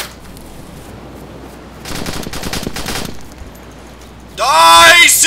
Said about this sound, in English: Is this the idiot shooting?